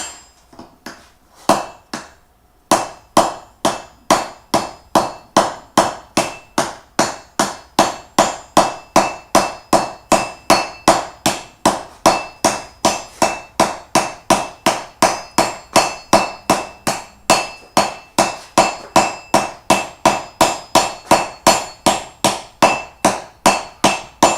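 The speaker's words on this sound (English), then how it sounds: "I think if I swing with good force with a smaller hammer, I'll achieve a better result." A smaller hammer rings against hot metal in steady, evenly spaced blows as a blacksmith forges a turkey leg, roughly two strikes per second, loud and close with no talking.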